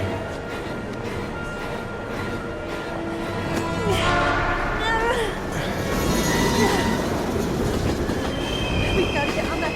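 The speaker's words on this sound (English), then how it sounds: "We've got to get on that train, Ethan. It's our only chance." A train rolls into a station in the Heavy Rain video game, with continuous loud rumbling, clattering wheels and high screeching metal squeals swelling over about ten seconds.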